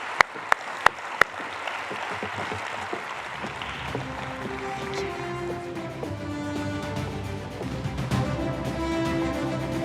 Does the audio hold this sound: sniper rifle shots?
no